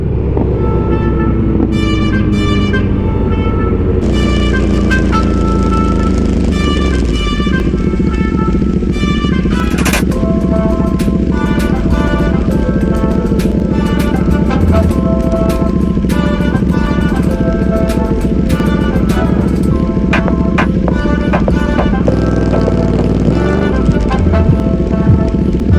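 A 2020 BMW S1000RR sport bike ridden hard on a road-race track with a GP shift pattern: a loud, close, continuous engine roar with rising and falling revs and gear changes, joined by steady wind rush throughout.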